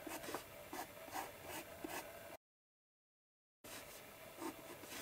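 A pencil drawing lines on paper for a simple owl sketch, heard as soft repeated scratchy strokes up close, quiet, with a gap of silence partway through.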